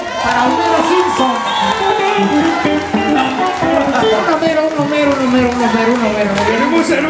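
A concert crowd cheers, whoops and shouts loudly in a continuous, close roar, with many voices blending over the noise.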